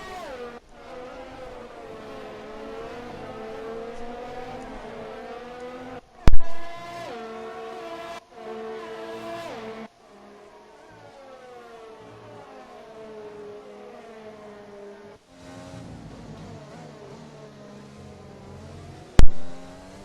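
F1 2020 race cars screaming past on track, a steady high-revving engine drone with shifting harmonics running throughout, broken by two sudden loud bursts.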